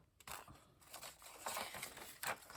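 Scissors cutting folded paper for a kirigami book, a series of soft close snips and crisp crunching cuts in an uneven rhythm, fairly faint with no talking.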